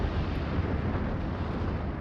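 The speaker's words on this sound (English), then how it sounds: "Oh, some explosions." Explosions in the space strategy video game Endless Space 2 as a fleet is destroyed, a continuous low rumbling roar, fairly faint and steady with no talking.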